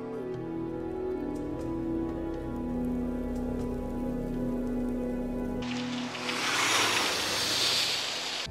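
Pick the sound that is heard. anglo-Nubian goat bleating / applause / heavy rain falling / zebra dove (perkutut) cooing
heavy rain falling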